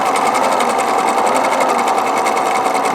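Husqvarna Viking 950 free-arm sewing machine running steadily while sewing stretch stitches, a loud, continuous rapid mechanical whir with even needle clatter, close up and uninterrupted.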